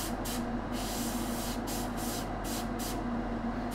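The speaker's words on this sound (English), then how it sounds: "I want to airbrush this into all the shadows" An airbrush sprays paint into the shadows of a figure, a continuous soft hiss with a few brief bursts of stronger airflow, close and steady throughout.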